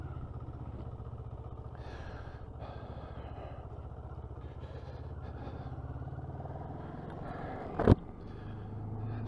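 A 2022 CF Moto 650NK motorcycle engine burbling at idle, a low steady throb with slight rises in revs and a brief sharp clack near the end.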